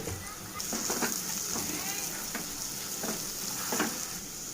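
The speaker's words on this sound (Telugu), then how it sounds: "ఈ ఉప్పు కారం మసాలాలన్నీ కూడా ఒక 2 నిమిషాలు నూనెలో వేయించుకున్న తర్వాత" Salt, chilli powder and spices fry in hot oil with a dense, even sizzle, broken by a few louder stirring scrapes and clinks against the pan.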